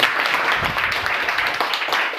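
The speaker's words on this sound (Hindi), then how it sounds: "चलिए इनके लिए जोरदार तालियां बजाइए।" Audience clapping for children at a mathematics magic show, a dense, continuous burst of many hands applauding, loud and close, with no talking over it.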